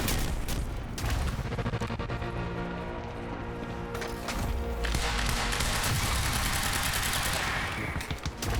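Rapid automatic gunfire rattles on almost without pause in Quantum Break, loud and dense, with a heavier burst of shots near the end.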